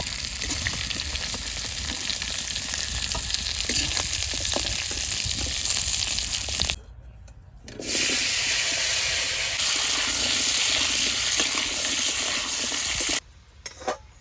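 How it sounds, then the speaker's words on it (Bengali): Potatoes fry in hot oil with a loud, dense sizzle close by. It drops out briefly twice, then resumes at the same level. No one talks over it. "তারপরে আলু কটা ভেজে নেবো দেখুন সুন্দর করে লাল লাল করে ভেজে নেবো"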